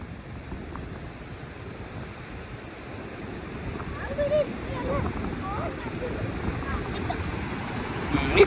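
Sea waves wash onto the beach at Murdeshwar, a steady broadband rush of surf mixed with gusting wind on the microphone that swells louder toward the end, with voices talking over it.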